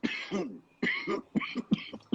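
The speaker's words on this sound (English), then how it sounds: "That's a cannabis cough." Several harsh, close coughs in quick succession, a short burst followed by a cluster of rasping hacks.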